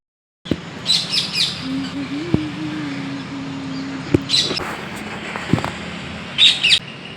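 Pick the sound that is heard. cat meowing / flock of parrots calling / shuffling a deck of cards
flock of parrots calling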